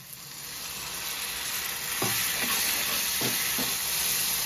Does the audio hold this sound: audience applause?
no